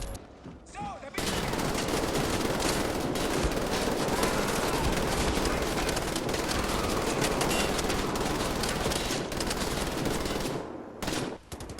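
An MG42-based machine gun with an MG34-style selective fire trigger in a Wolfenstein video game: a loud continuous stream of rapid automatic fire lasting about ten seconds, preceded and followed by brief mechanical handling clicks.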